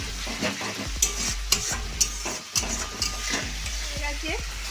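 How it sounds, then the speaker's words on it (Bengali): Chicken and masala being stir-fried in a kadai with a little added water for chicken kosha, steady sizzling and bubbling with repeated scraping and stirring knocks of a spatula against the pan. "জল দিয়ে আমি আবার কষছি।"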